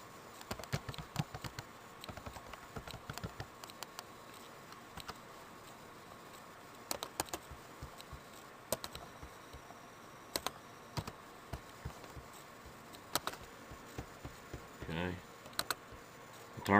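Steady typing on a computer keyboard, a quick run of light, close clicks and taps with short pauses, heard alone without talk.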